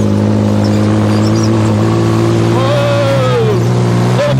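A vehicle engine drives over sand and berms, loud and close, with a steady low droning hum. Partway through the pitch sweeps up and back down as the throttle changes.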